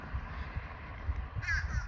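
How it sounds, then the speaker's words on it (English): Crows caw outdoors along a trail, a few harsh calls ringing out near the end over a steady low rumble of wind or traffic. "Okay, that one was a crow."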